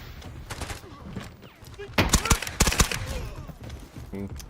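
Gunfire from Delta Force rings out in sharp, loud volleys, first sparse and distant, then a dense burst of close shots around the middle, with game sounds continuing afterward.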